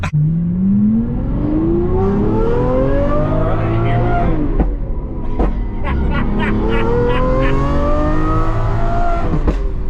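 A loud engine revs hard and climbs through the gears, dropping pitch at each shift and rising again, close and continuous throughout.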